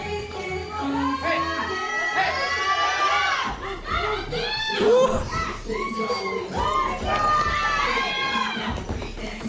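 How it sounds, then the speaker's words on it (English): Crowd cheering and shouting during a dance practice, loud and continuous throughout with music and overlapping voices, swelling in bursts. "The cheering, dude, it's hype"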